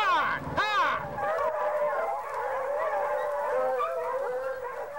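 Fox hunting hounds bay and howl in the woods, several long wavering voices overlapping in a steady chorus, with a louder yelp near the start.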